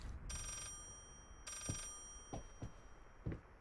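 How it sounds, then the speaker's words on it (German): Telephone ringing somewhere else in the horror video game Layers of Fear, two distinct electronic bell rings, faint and distant, followed by a few soft knocking or footstep thuds. "jetzt klingelt woanders noch ein Telefon"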